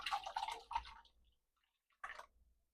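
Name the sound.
pouring liquid orange gelatin into a metal bowl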